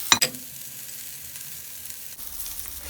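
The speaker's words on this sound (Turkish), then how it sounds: "Şimdi bunun içine baharatlar atacağız." Spices dropped into a hot pot while cooking kuska pilaf give a brief loud hit at the start, then a steady hiss and sizzle that carries on alone.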